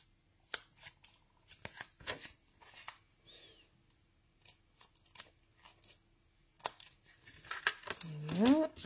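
Card being trimmed with scissors, a series of crisp snips and paper rustles up close, with a brief voice near the end.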